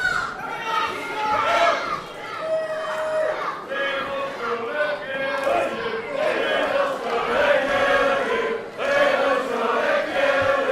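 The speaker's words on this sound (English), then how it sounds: "the crowd are behind Riddle" A wrestling crowd at a live show roars and chants in a steady, dense wash of cheering and shouting that carries on throughout, with a commentator talking over it.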